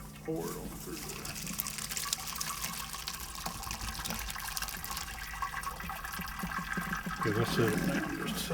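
Boiled mayhaw fruit juice pours through a cheesecloth strainer in a continuous, splashy rush of liquid, with muffled voices faintly underneath.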